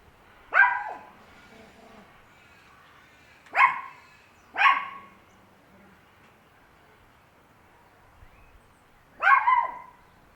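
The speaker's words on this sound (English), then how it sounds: "I have my poodle making some noise in the background" A poodle barks in the background in four separate bursts, two of them close together, with quiet gaps between.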